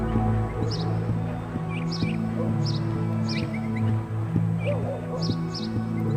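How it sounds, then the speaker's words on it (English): Birds chirp and tweet in short repeated bursts through the Shenmue video game world, set over a steady low ambient hum and background music with no talking. "adding to that crisp sky, the sound of the birds"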